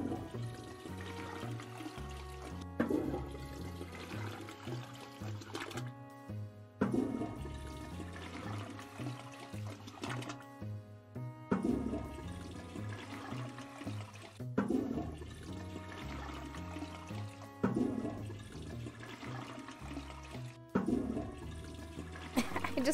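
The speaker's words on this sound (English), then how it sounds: "So we just keep flushing to earn money?" Repeated toilet flushes in the video game Toilet Flushing Simulator, each a loud rushing gurgle of draining water starting every few seconds in a steady cycle, close and without speech.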